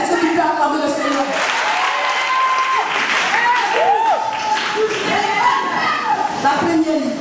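A church congregation at a Sunday service applauds the Lord, producing sustained dense clapping throughout, with voices singing and calling out over it in a lively, reverberant hall.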